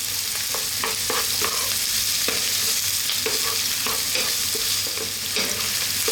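Onions and garlic sizzling in a pan for lasagne, a constant frying hiss broken by repeated scraping knocks as a utensil stirs them around.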